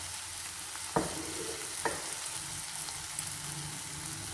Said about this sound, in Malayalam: എന്നിട്ട് നമുക്ക് ഇതിലേക്ക് ചിക്കൻ ആഡ് ചെയ്ത് കൊടുക്കുക.